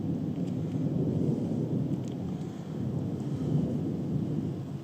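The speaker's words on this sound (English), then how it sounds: "there's more thunder on the way." Deep thunder from a passing storm, a steady sustained rumble that stays loud and full throughout with light rain hiss underneath, no talking.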